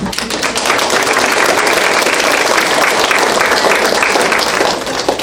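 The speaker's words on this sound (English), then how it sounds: "just give them a round of applause before" Audience applause for a volunteer panel of nursing students, a dense, steady wash of many hands clapping close and loud for about five seconds with no talk over it.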